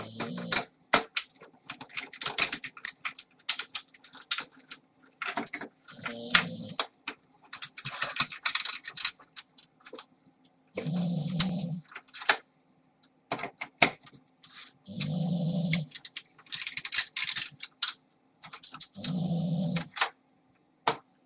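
Screws are being unscrewed from an Xbox 360 Slim case, with repeated short bursts of scratchy, ratcheting clicks from a screwdriver working the screws. Brief gaps and quiet handling noises separate the close bursts.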